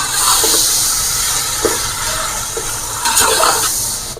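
Mutton pieces fry in a cooking pot, with a steady loud sizzle and occasional stirring scrapes and clinks over it.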